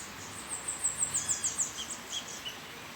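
A small bird sings high, quick chirping notes in a fruit-laden jambo tree after heavy rain, giving a faint, rapid series of twitters over a soft, steady hiss of background noise.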